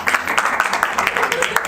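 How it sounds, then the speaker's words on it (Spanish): Classroom audience applauding a fellow student after a group presentation at a legal seminar, a steady dense patter of many hands clapping throughout, fairly close and moderately loud. "Un fuerte aplauso para su compañera."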